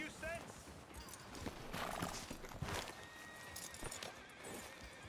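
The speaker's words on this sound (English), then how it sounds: "Let me just hit the button to hitch my horse." Horse hooves clip-clop steadily alongside a brief whinny in Red Dead Redemption 2, with voices talking over the top and game ambience underneath.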